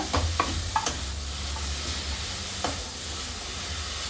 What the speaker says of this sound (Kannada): ಕೊತ್ತಂಬರಿ ಸೊಪ್ಪನ್ನು ಹಾಕ್ಕೊಂಡು ಫ್ರೈ ಮಾಡ್ಕೊಳ್ಳೋಣ ಹಸಿಮೆಣಸು ಖಾರಕ್ಕನುಗುಣವಾಗಿ ಹಾಕ್ಕೊಳ್ಳಿ ನೀಟಾಗಿ ಫ್ರೈ ಮಾಡ್ಕೊಳ್ಳೋಣ